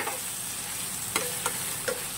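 Chopped tomato and ginger-garlic paste being stirred into hot oil in a pan for an egg and soya chunk curry, giving a steady close sizzle broken by a few soft spatula knocks.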